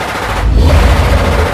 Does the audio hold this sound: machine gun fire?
yes